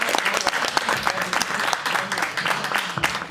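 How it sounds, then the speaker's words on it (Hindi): Audience at a poetry recital clapping loudly and continuously, a dense close burst of applause filling the whole moment. "तो इनके लिए एक बार फिर से जोरदार ताली हो जाए।"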